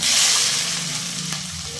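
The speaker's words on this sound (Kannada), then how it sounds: "ಫ್ರೈ ಮಾಡ್ಕೊಳಕ ಒಂದು 4 ಹಸಿಮೆಣಸಿನ್ಕಾಯಿ, ಈರುಳ್ಳಿ ಸ್ವಲ್ಪ" Green chillies and onion frying in oil for a mutton gravy, a steady close sizzle with light stirring that eases slightly toward the end.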